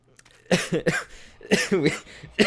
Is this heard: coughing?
yes